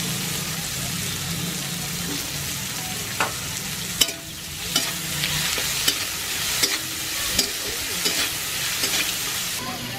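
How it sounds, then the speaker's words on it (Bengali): Chopped garlic and ginger fry in hot oil in a pan, a constant close sizzle broken by a series of sharp scraping stirs and clinks of the spoon against the pan. "একটু ভালো করে ভেজে নেব।"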